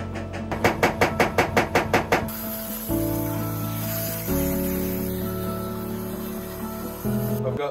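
TIG welding on a 25 ft Bertram boat project. It starts with a rhythmic series of pulsing buzzes, then settles into a steady, close hissing hum that shifts in pitch several times.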